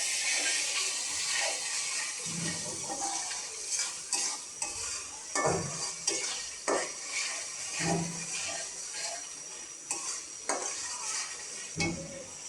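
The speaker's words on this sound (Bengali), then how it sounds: "দিয়ে দিচ্ছি পরিমাণ মতো লবণ। দিয়ে একটু কষিয়ে নিই।" Chicken frying with salt in a pan is stirred and scraped with a metal spoon, giving repeated irregular clanks and scrapes over a steady, soft sizzle.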